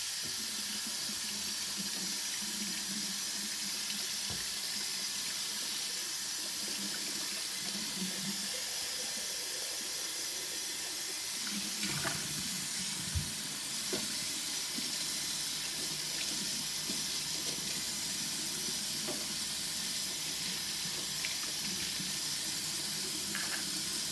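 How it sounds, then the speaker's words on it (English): Water from a tap runs steadily over a teapot as soap is rinsed off, a continuous close hiss with faint clinks and splashes shifting as the pot is handled. "Now we're going to rinse all of the soap off."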